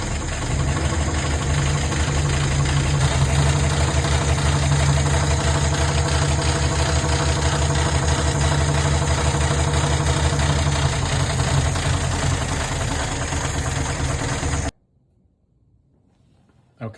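A 1955 Packard Clipper Deluxe engine runs steadily at a loud rough idle with a low rumble and rhythmic knocking for about fifteen seconds, then cuts off abruptly into near silence.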